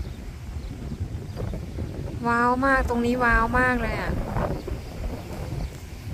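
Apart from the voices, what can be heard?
strong wind blowing on a seaside cliff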